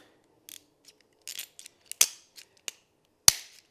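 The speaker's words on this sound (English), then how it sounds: "So let's put a cable tie on this, see if it works." A cable tie gun tightens and cuts a cable tie: a series of sharp mechanical clicks and ratcheting snaps, building to a louder clean snip near the end, close by with no talking.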